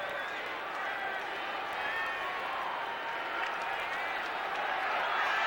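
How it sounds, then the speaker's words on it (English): Stadium crowd at a Falcons versus Lions football game cheering in a broad, continuous roar that holds steady and swells slightly toward the end, with faint commentary mixed underneath. "The crowd alive here, urging on the Lions defense"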